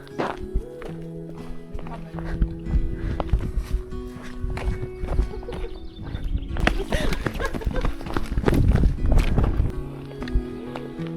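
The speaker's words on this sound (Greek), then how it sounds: "ξεφύγαμε τις κατσίκες που μας κυνηγήσανε" Goats chase people across the ground in rural Aitoloakarnania, Greece, at Easter, with hooves clattering in quick, irregular footfalls that grow louder toward the end, mixed with tonal background sounds and some voices.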